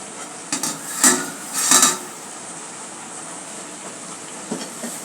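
A cooking pot is lifted off a home stove after boiling greens for a Bengali mash, with two short bursts of metallic clanking from pot and utensils, then quiet kitchen background.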